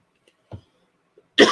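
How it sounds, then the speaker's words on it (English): Two or three short coughs from a woman at a table, a faint one and then a loud, close burst at the end, with no talk. "I don't know why I'm coughing so much today"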